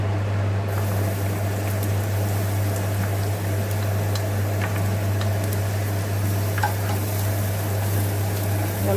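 Finely chopped ginger, garlic and green chili sautéing in oil, a steady low sizzle with faint stirring clicks over a constant hum, no speech.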